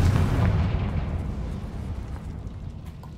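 A Confringo fire spell blasts off in Hogwarts Legacy, a loud booming burst up front that rumbles heavily in the low end and then decays into a fading roar over several seconds.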